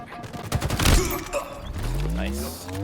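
Burst of gunfire in a Halo Slayer multiplayer match, a loud rapid volley peaking early, then fading into lingering game effects and tones.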